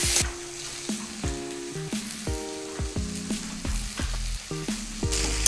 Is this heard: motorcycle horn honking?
no